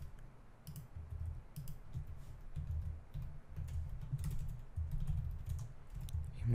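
Python code being typed on a computer keyboard, a close, rapid run of soft key clicks in uneven bursts with brief pauses, steady throughout with no voice.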